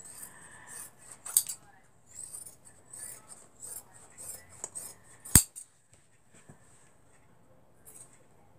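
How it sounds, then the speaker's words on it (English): Small, crisp snips and clicks of scissors trimming the corners of a handmade pocketbook come close and fairly quiet. Two sharper cuts stand out among lighter rustling sounds. "Trim my corners just as close as I can get them without cutting into my"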